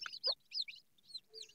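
Several high, chirping peeps from young chicks with yellow-and-black down, alongside short low clucks from a mother hen, heard close and with no talking, in irregular bursts over a second and a half at a mud house with pet animals.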